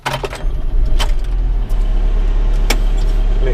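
A forklift's engine runs steadily during lambing-shed clean-out, a continuous low rumble close by with a few sharp clunks and knocks over the top.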